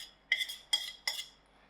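A utensil scrapes and clinks against a bowl while flour is mixed into Malva pudding batter, three distinct bright clinks about a third of a second apart, quiet and close.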